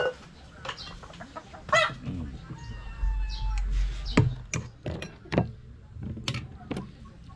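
A chicken clucks in short, repeated bursts close by in a home kitchen, with clattering and handling noises mixed in around the calls.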